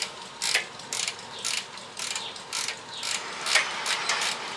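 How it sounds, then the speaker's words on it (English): A ratchet wrench tightens a radiator bolt on a 2001 Jeep Wrangler TJ, with short bursts of rapid ratcheting clicks repeating in a quick rhythm, close and fairly loud, with no voices. "tightening up the latest bolt in the radiator"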